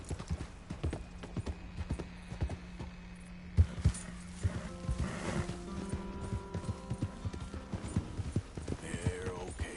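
Horse hooves clip-clop in a steady walking rhythm in Red Dead Redemption 2, close and moderately loud, joined partway through by a brief whinny and layered game ambience.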